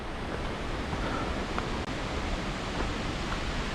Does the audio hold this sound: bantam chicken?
no